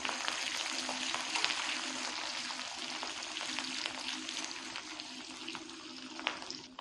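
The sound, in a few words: ginger and garlic frying in oil for kanthari pickle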